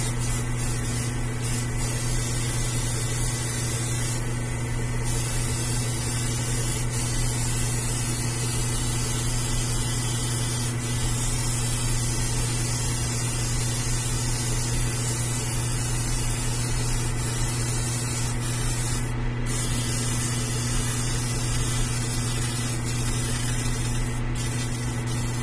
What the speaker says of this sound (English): He pumps out some primer pretty quick